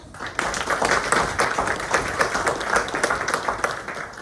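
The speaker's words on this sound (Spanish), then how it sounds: "Por favor, un aplauso para nuestro panelista." An audience at a panel on mitigating El Niño effects claps for a panelist, giving a steady, moderately loud patter of many hands that continues evenly for about four seconds.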